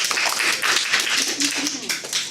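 A Toastmasters meeting audience applauds its timer, a dense, steady wash of many hands clapping close and loud throughout with a hint of voices mixed in.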